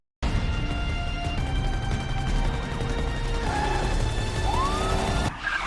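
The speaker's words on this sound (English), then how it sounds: "A high-speed chase ensues as police cars pursue the ambulance." Police cars roar past at speed chasing an ambulance, a wailing siren rising and falling amid tire noise, loud and continuous, ending abruptly.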